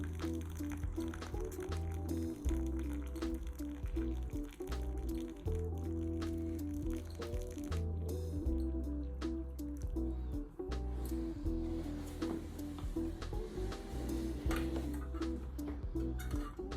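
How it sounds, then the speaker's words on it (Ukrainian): Water pours and drips into a folding silicone camping kettle, a continuous liquid trickle running steadily at close range for the whole stretch. "і ми заливаємо, капає."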